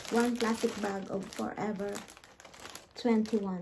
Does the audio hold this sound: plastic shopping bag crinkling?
yes